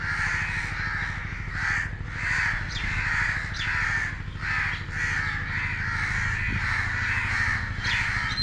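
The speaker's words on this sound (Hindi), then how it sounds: "एक कौवा लटका है जी, बिजली के साथ उसकी डेथ हुई तो सारे कौवे इकट्ठे हो गए।" A crowd of crows gathered around a dead crow that was electrocuted on a power line caws loudly and continuously, overlapping harsh calls in repeated waves, close and dense with no talk.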